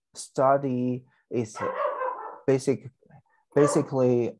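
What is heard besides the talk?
dog barking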